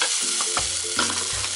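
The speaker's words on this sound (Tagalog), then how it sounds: "nag-isa na ako ng bawang sibuyas" Garlic and onion sauté in a hot pan, a loud steady sizzle close up, with a few soft scrapes and clacks as the pieces are stirred, no talking.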